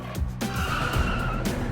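A car brakes hard and its tires skid in a short, loud, close screech over rumbling road noise after a two-wheel driving stunt, with no voices.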